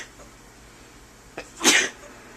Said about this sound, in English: Oh, I'm sneezing